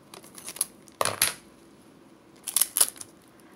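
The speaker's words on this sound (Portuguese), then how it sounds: "um pedaço de durex" Adhesive tape pulled off a roll while crafting an amigurumi Halloween pumpkin: two short, sharp ripping bursts about a second and a half apart, with quieter crinkles between, close and alone.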